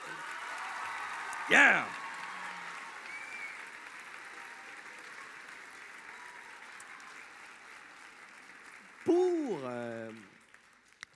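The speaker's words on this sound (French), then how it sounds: "Applaudissez-les!" Gala audience applauding in a hall, a steady wash of clapping that runs under the whole span, with a brief shout near the start and a voice speaking near the end.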